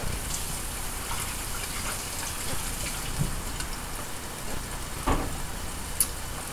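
Running tap water pours steadily over taro roots being washed in a kitchen, a continuous close splashing rush with a few louder clinks and splashes.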